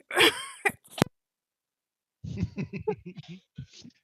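A short, sharp cough bursts out near the start, followed by silence and then someone talking.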